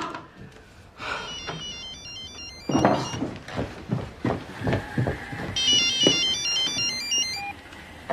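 A telephone rings indoors during a French TV drama, its electronic trill starting faintly and returning louder near the end, mixed with thumps, knocking and movement sounds.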